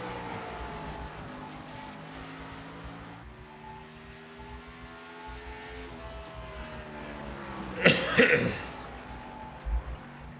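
A single sharp, close cough bursts out over the steady drone of race car engines in a qualifying session at Bristol, with the engine sound running throughout.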